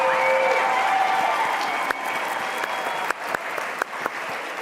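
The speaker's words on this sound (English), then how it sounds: "I want to give a big round of applause" A crowd at a grief-support camp gathering claps in sustained applause, a dense steady patter that thins slightly, with a few sharper individual claps standing out near the end.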